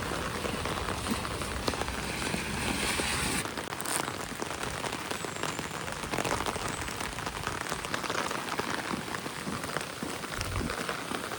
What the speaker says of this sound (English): you can enjoy the sounds of rain as I was walking to campus